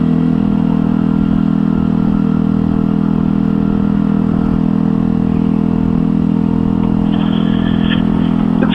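A Mutt Fat Sabbath motorcycle under way, its engine a steady, loud, droning hum with wind rush over the mic, continuous and unbroken for the whole stretch.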